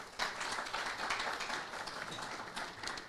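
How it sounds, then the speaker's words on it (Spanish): Faint, steady clapping from an audience welcoming a speaker at a chamber of commerce business forum, an even patter that stays quiet and distant throughout. "Recibámosle con un aplauso, por favor"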